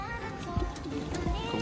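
A Kaisara pigeon gives low, throaty coos close by, with a few short repeated burbles over a steady background hum.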